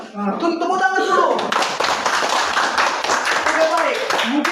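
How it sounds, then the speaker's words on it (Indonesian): A classroom of students claps their hands together in a dense burst that fills the few seconds, starting just after a voice and running with chatter underneath. "Tepuk tangan dulu."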